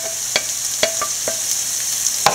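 Onion, green chilli, crushed ginger and garlic sautéing in hot oil for a shrimp biriyani, a bright steady sizzle broken by several sharp clicks and scrapes of a spoon stirring the pan, close and clear.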